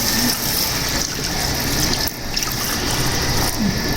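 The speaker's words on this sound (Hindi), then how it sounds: "अब इसमें हम पानी कर देंगे।" Water gushes steadily into a pot of tinday gosht, a Pakistani curry of round gourd and meat, making a continuous rushing pour with no one talking.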